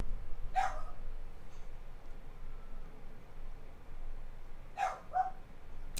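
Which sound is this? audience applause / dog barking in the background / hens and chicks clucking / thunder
dog barking in the background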